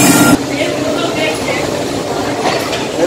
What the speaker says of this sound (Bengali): জাস্ট হচ্ছে আমাদের এই ট্রেন ঢুকছে